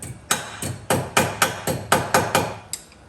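Nine sharp hammer strikes land in a steady rhythm, close and loud, each ringing briefly before the next blow.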